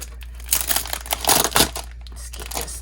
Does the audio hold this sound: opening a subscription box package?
yes